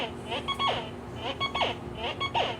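MX Sport metal detector sounding off over a quarter lying on red dirt: three repeated bursts of warbling, rising electronic tones, each about a second apart, close and clear against a low hum.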